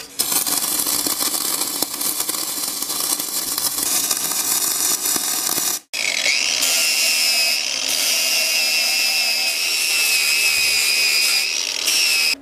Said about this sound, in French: je suis en train de meuler les soudures que Johan nous a fait